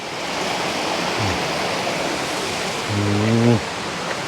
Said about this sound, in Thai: มาดูน้ำห้วยแก้วก่อน